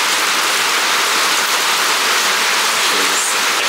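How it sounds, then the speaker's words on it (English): Heavy rain pours steadily onto an awning over the doors of a shipping container building, a loud, even hiss of dense drops that holds without pause. "It's actually raining pretty good right now"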